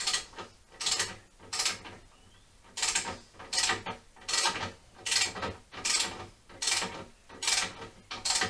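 A ratchet with a 27mm socket works motorcycle frame bolts on a Honda CBR400 track bike, giving a regular series of about a dozen loud, close clicking strokes in a steady rhythm.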